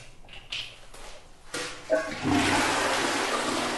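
A jacuzzi bath's bubble wash starts up: clicks and knocks give way to a loud, steady rush of running, churning water close to the microphone.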